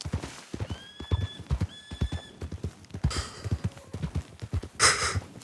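Steady clip-clop of horse hooves on hard ground, with a couple of whinnies and snorts breaking in over the rhythmic footfalls.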